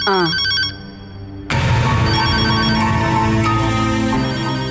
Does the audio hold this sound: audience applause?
no